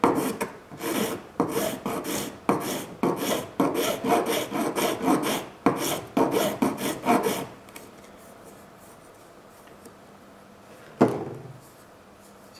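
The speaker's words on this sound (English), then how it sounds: "just file them off. Or like I said, you can sand them." Bumps on a part for a latex vacuum bed are filed off by hand. Steady, close, rhythmic rasping strokes repeat in quick succession, then stop, followed by a quiet pause and one last scrape.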